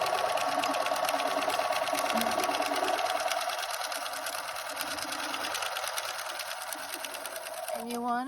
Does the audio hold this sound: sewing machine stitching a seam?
yes